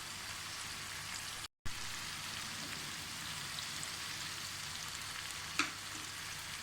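Dry red chilies and salt fry in ghee for daal, giving a steady close crackling sizzle throughout, broken once by a brief gap and a single sharp clink near the end.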